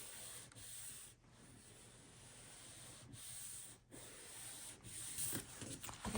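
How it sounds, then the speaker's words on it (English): Hand burnishing glued card paper flat on a craft table gives a continuous close, soft rubbing and sanding sound, steady throughout with a few brief pauses. "You just burnish that with your hand."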